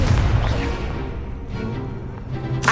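A Confringo fire spell blasts in Hogwarts Legacy, a loud low explosive boom at the start that rumbles and fades, followed by clattering combat effects and a sharp burst at the end.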